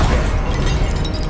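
An Incendio fire spell cast in the Hogwarts Legacy video game, a dense, loud roaring burst of flame that stays steady and full throughout.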